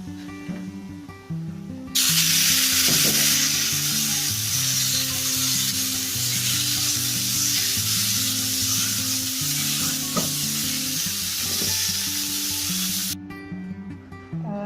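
Meat hits a hot pot and sizzles loudly, a bright steady frying hiss lasting about eleven seconds over faint background music, then cutting off.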